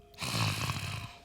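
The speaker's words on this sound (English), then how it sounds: "I thought you snoring" A person snoring, one drawn-out rasping inhale heard close and fairly loud, with a rough, throaty rattle that swells and fades over about a second.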